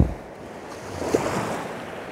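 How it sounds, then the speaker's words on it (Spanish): Strong swirling floodwater after a hurricane on a road in Santa Bárbara, Honduras, with a steady rushing, surf-like roar and wind noise on the microphone throughout, loud and close. "Hay un remolino de agua bastante fuerte"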